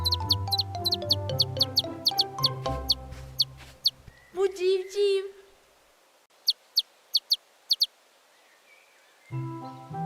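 A cartoon chick peeps in short, high, rapid chirps over playful music, with a wavering crying call in the middle and a burst of isolated chirps after the music stops.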